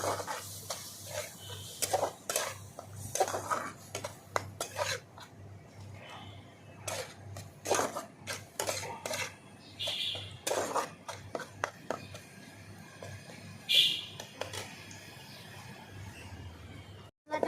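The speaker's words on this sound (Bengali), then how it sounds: "আমি এবার মশলা মিশিয়ে একসঙ্গে কষিয়ে নেব সব" Spices and turmeric are stirred and sautéed with Bombay duck fish in a pan, producing irregular bursts of scraping and clinking strokes over a low, steady sizzle, with brief pauses between rounds of stirring.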